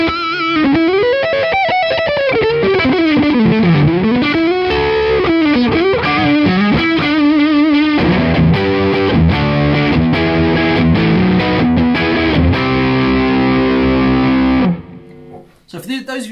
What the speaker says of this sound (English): that gives you a good idea of what a Jazzmaster's neck pickup sounds like